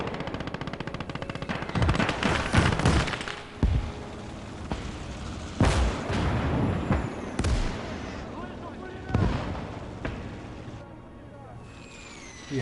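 Wartime battle in a WWII strategy game set during Operation Mars, with an anti-tank gun, a Panzer IV and artillery firing: repeated sharp blasts and bursts of gunfire cut through a continuous rumbling din, some shots close and loud, others farther off.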